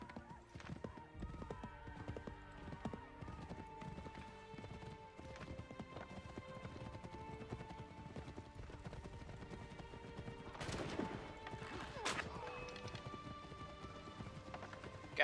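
Hoofbeats clip-clop steadily through a busy Assassin's Creed III game soundscape, with a horse whinny and bursts of gunfire mixed in; no one speaks.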